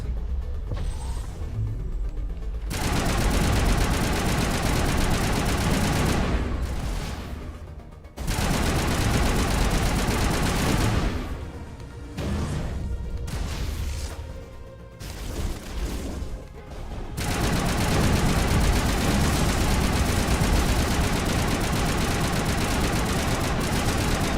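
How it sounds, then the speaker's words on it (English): Enemy tanks firing in Mass Effect 1 Definitive Edition, dense bursts of heavy gunfire and crashing impacts in long loud stretches broken by brief quieter gaps, with engine rumble underneath. "Oh crap! They've got tanks."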